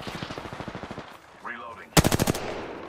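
Automatic gunfire in the Apex Legends video game: bursts of rapid shots under a player's talk, then a sharp, loud volley of about five close shots near the end.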